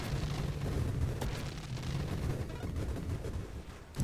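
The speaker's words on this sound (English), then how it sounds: "Look at all those explosions." Explosions in the space shooter game Nova Drift make a dense, continuous rumble of overlapping booms and crackling bursts, loud and unbroken throughout.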